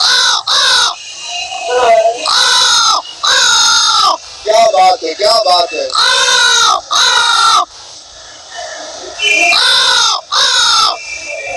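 A boy imitates loud, harsh crow caws in repeated bursts, and a flock of crows caws back nearby. The calls come in an uneven, overlapping sequence, and a man briefly exclaims in between.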